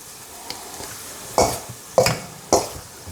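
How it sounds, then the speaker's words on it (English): Veal pieces tossed with cornstarch in a bowl, giving three distinct scraping, clattering stirs spaced about half a second apart, close and fairly loud against a quiet background, with no talking. "So let's give that a mix and see if that's enough cornstarch or not."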